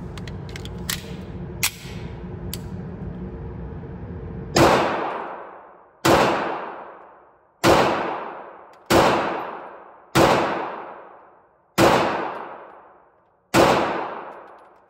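Seven loud pistol shots from a subcompact firing 125-grain Blue Bullets, spaced at irregular one-to-two-second intervals with ringing decays, preceded by a few faint metallic clicks of handling.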